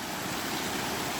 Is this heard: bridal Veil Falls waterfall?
yes